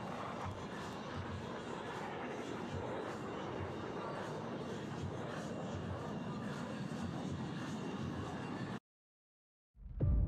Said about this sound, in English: The 2 solo pilots will next demonstrate the inverted flight capability of the F-18.